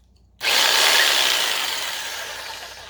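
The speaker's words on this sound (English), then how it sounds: "So I'll check out the next cut, which will be the jigsaw." A Ryobi jigsaw cuts cement backerboard, bursting on abruptly into a loud, harsh, gritty rasping buzz that continues steadily and slowly eases, with no voices.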